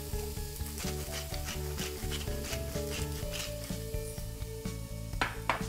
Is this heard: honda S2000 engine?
no